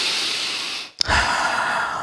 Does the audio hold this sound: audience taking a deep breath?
yes